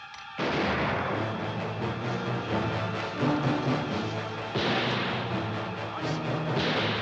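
Sustained gunfire in an Australian historical battle scene, with dense, continuous loud shooting and overlapping volleys rumbling throughout, with no talk heard.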